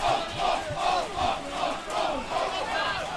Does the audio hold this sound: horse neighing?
no